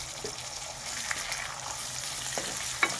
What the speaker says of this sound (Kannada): ಈರುಳ್ಳಿ ಸ್ವಲ್ಪ ಚೆನ್ನಾಗಿ ಕೆಂಪಾಳ ಬರೋವರೆಗೂ ಫ್ರೈ ಆಗಬೇಕು.